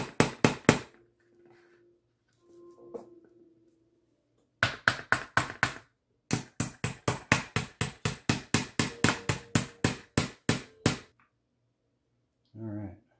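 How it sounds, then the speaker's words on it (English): A small hammer tapping hinge pins on a Traxxas X-Maxx RC truck: a few sharp taps, a quiet gap, then long runs of evenly spaced, crisp metallic knocks close by. "Sometimes on these hinge pins I like to actually use a small hammer"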